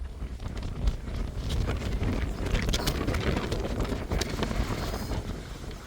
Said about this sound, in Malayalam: പുറത്ത് ഭയങ്കര കാറ്റും തണുപ്പുമായിരുന്നു